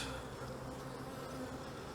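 Honey bees buzz steadily around an opened hive during a spring inspection after winter, a dense continuous drone close to the microphone with no voices.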